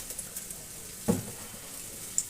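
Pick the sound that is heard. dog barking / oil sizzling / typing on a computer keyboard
oil sizzling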